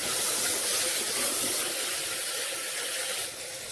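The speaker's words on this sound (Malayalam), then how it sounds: "എല്ലാം കൂടി ഒന്ന് വഴറ്റി പച്ചമണം കംപ്ലീറ്റ് മാറുന്നിടം വരെ വഴറ്റി കൊടുക്കാം" Onion, spices and curry leaves sauté in a pan for beef curry, giving a loud, close, continuous hiss that eases slightly near the end.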